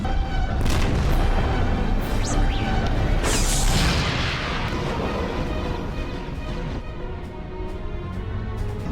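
Deep booming blasts of cannon fire in an animated Star Wars: The Clone Wars battle, with heavy rumbling and a sharp crack midway, loud and reverberant, fading into a lingering roar.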